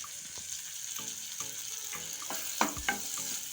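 Green chillies and grated ginger frying in butter in a kadai, a gentle steady sizzle with a few clinks and stirring scrapes, faint and close, no voices.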